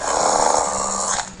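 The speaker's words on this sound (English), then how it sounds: "You can see him growling." A dog in a video game growls in a low, continuous rumbling snarl, fairly loud and close, with a short sharper burst at the very end.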